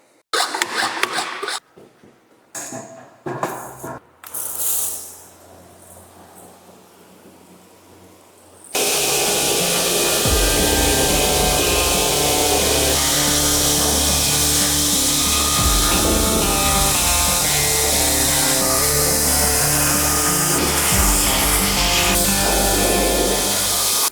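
A pressure washer blasts heavy-duty degreaser off the cab of a Peterbilt 389 truck, first heard as sparse scrubbing and handling noises, then a loud, steady hissing spray that runs without a break to the end.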